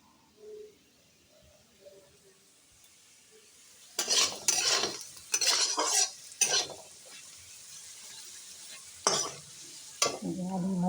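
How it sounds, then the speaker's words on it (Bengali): Potatoes fry in a pan with intermittent bursts of sizzling and stirring clatter, separated by quiet stretches with faint kitchen sounds. "আলু ভাজা"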